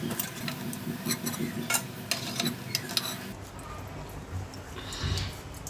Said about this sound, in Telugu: ఇవి ముందు నూనెలో వేయించుకోవాలి